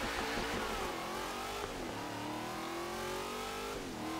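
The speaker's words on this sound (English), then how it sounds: "it sounds absolutely ballistic, which you kind of would expect, considering that's two massive V8s with two huge superchargers on it" A 1969 Hot Wheels Twin Mill with two huge supercharged V8s revs hard in Forza Horizon 3, a dense, continuous roar with rising pitch sweeps, loud and alone.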